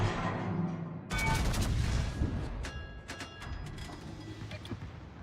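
Naval video game battle with heavy ship guns: a loud burst of booming salvos and cracks starts after a second, then continues as scattered distant shots and rumbling under a steady background din.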